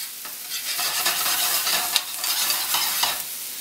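A metal utensil scrapes and stirs across the bottom of a sizzling frying pan of golden-browning onions for chicken marsala, with repeated raspy strokes over a steady fry.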